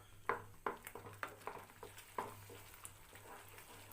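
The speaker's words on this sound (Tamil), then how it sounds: "ஒரு 3லிருந்து 4 நிமிஷத்துக்கு நல்லா வதக்கி விடுங்க" Ground kaara chutney paste is sautéed in a pan, heard as a quiet run of soft spatula taps and scrapes at a fairly regular pace over a faint low sizzle, with no talking.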